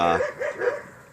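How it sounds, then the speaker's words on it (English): Neighborhood dogs bark and yip in a short burst of three quick, moderately distant barks, fading at the end. "I mean, the neighbors' dogs, they're all barking around here."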